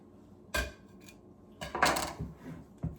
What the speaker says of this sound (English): I'm actually gonna end up using my bowl scraper so we don't lose any of this amazing batter.